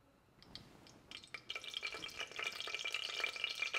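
Olive oil hits a hot saucepan: a few light ticks give way to a crackling sizzle that swells and then holds steady and bright, close up.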